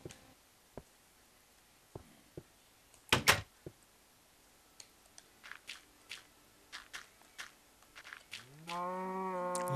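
Minecraft cow moo at the end of the stretch, a rising drawn-out bovine call heard close, preceded by scattered clicks and thuds of block placing and movement in the game.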